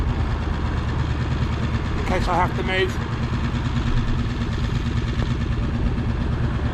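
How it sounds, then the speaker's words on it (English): A boat's outboard motor idles with a steady low putter throughout near Poole Bridge, while someone talks briefly over it. "I've got the outboard ticking over"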